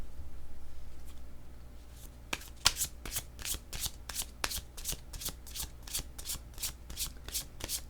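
A deck of tarot cards is shuffled up close, a quick series of crisp riffling flicks and slaps coming in a steady rhythm over a faint low background hum.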